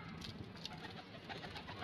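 Breeder pigeons coo softly and repeatedly nearby, the low throaty calls overlapping in a continuous murmur with no talking.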